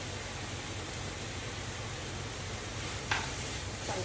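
A pineapple and coconut burfi mixture fries over medium heat and is stirred, giving a continuous soft sizzling hiss with a couple of brief scraping strokes near the end.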